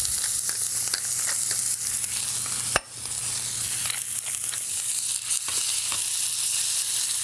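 A grass-fed NY strip steak sears loudly in a hot pan, a dense unbroken sizzle with crackles and one sharp clack partway through, close and continuous with no voices.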